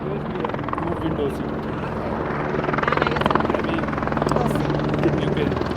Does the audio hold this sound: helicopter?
yes